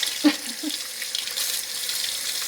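Kitchen sink tap water runs steadily as a soft continuous hiss with a faint splash near the start, moderately quiet and alone.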